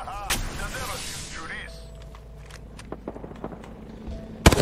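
Video game gunfire in a squad shooter match: a few sharp shots, one near and loud at the end and others fainter and scattered, over low background rumble.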